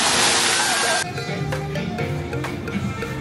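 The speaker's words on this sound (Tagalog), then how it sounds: "Mukhang mababa yung falls, pero mataas siya sa totoong buhay." A tall waterfall roars loud and close as a dense rush of falling water, then drops to a softer, more distant wash with occasional sloshes.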